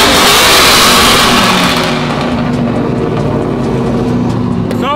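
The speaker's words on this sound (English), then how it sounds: "So it has a nice little choppy sound with the Corsa exhaust." A truck fitted with an ONDGAS cam and Corsa exhaust revs loudly up close with a choppy, rough engine note that settles to a steadier, slightly quieter run, with no talking over it.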